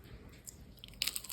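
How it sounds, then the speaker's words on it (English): A bite into Fruit Roll-Up ice cream gives a quiet crunch, with soft chewing at first and then a sharper burst of crackling near the end. "Listen to the crunch."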